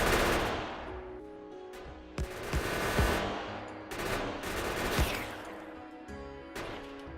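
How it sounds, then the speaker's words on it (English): Sniper turrets in Factorio fire at worms in a dense, rapid barrage of gunshots, with sharp cracks standing out over a continuous layer of game noise and a steady musical drone. "The sniper turrets are great."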